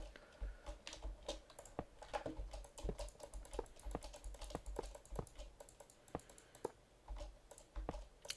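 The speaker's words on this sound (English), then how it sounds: "I'm clicking my mouse quite a lot to get them to place." Rapid, sharp computer mouse clicks repeat in quick irregular bursts, faint and close, with light keyboard-like tapping mixed in and a murmur of speech behind.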